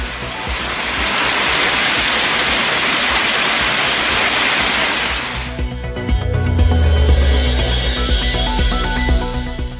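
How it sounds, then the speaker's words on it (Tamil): Heavy rain pours down in Tenkasi, Tamil Nadu, a dense, loud, continuous hiss that gives way after a few seconds to quieter patter under a low rumble. "கடும் வெயிலுக்கு மத்தியில் தென்காசியை குளிர்வித்த கனமழை."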